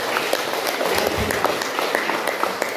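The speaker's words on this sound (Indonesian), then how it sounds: "Kita berikan tepuk tangan untuk pemuda adat." Steady applause from an audience honouring indigenous youth, a dense patter of clapping that carries on evenly for the whole stretch without a break.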